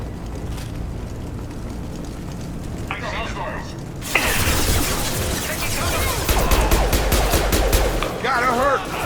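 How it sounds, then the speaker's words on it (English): Blue Suns mercenaries and Vorcha fire guns in the video game Mass Effect. Faint activity gives way at the midpoint to loud, dense bursts of gunfire with cracks and impacts, under a voice. "The Blue Suns and Vorcha shooting anything that moves."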